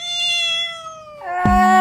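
A pet cat named Thumbi meows in one long, drawn-out call that shifts into a sharper second cry near the end. The cat is close and clear, with no talk over it.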